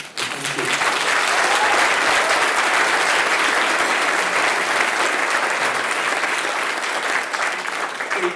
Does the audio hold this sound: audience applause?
yes